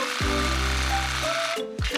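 An electric reciprocating saw cuts tree roots in soil, a loud buzzing motor drone that runs steadily, stops briefly and then restarts.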